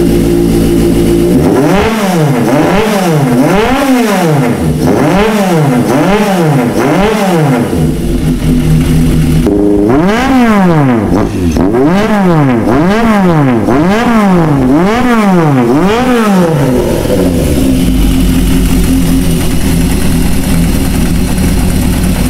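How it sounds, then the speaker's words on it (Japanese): Yamaha XJ550 motorcycle engine, a well-kept example, revs repeatedly in rhythmic rising and falling bursts from idle, loud and close, settling back to a steady idle at the end. "じゃあちょっと極上車両のちょっとサウンド、はい、これ550のですね。"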